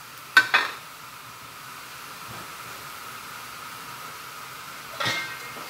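Chicken liver adobo cooks in a pan with a low, steady sizzle, and two sharp clatters from stirring or a pan come near the start and again near the end.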